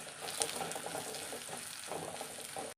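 Onions and crushed chili sizzle and crackle steadily while frying in a pan for a Kerala-style spinach dish, a dense continuous hiss with small pops, close and fairly quiet, no voices.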